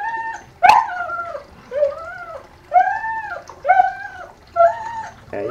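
Kali, a noisy puppy about four weeks old, howls and yips close up in a series of rising and falling whiny cries, with one sharp yelp near the start and short pauses between calls.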